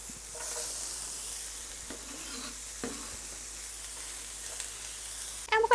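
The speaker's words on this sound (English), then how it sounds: "You hear that sizzle?" Chopped onion sizzles in avocado oil in a pan, a soft steady frying hiss with a few faint stirring scrapes and a louder clatter near the end.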